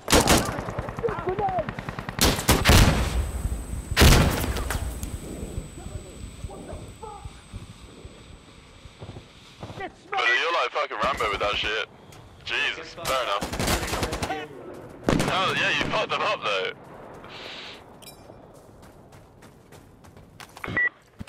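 Rifle fire in the Insurgency Sandstorm PvP shooter, with loud bursts of rapid automatic shots that come in separate volleys between quieter stretches, mixed with game sounds and voices talking.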